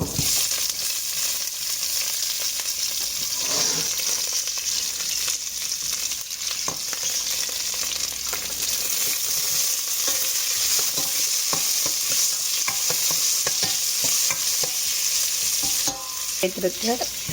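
Fenugreek seeds and onion sautéing in a pan for a crab and drumstick milk curry, a long steady sizzle broken by frequent stirring scrapes, close and continuous with no talking.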